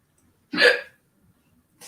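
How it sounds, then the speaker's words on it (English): A single hiccup bursts out sharply near and loud, then gives way to near silence with a faint sound at the very end. "That was hiccups."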